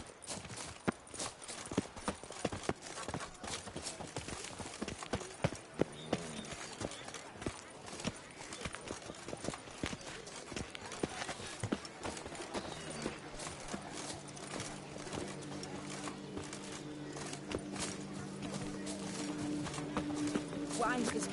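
Roach, a horse in The Witcher 3 video game, galloping with a rapid, steady drumming of hooves close by, joined later by a low sustained musical drone.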